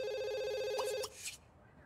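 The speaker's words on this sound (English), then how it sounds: "Try to answer the phone." A telephone rings in The Sims 2 game, a steady electronic ringtone trill that cuts off abruptly, followed by a couple of brief game chimes, fairly quiet.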